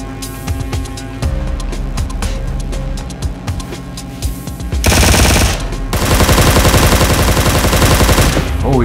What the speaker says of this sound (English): Oh, he's shooting at me.